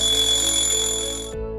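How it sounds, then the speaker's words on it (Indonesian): An animated alarm clock rings at six in the morning, a steady, loud electronic tone that holds without pause and then cuts off abruptly, followed by a low muffled thud. "jam menunjukkan pukul 6 pagi dan terdengar kembali suara alarm Dito"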